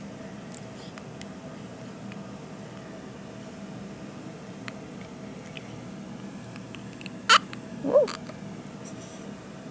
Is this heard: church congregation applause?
no